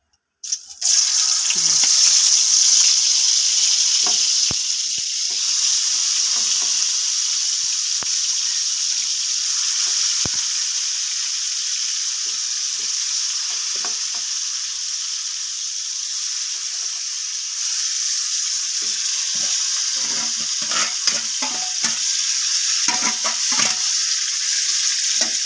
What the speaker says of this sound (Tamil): இப்போது இதில் இந்த சிக்கனை போட போகிறோம்.